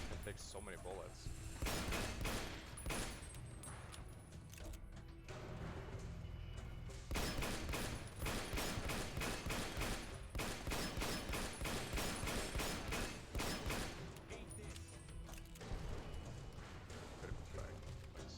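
Rapid bursts of gunfire in the video game Fallout New Vegas, clustered into dense volleys that keep going with brief lulls, mixed with game music and effects.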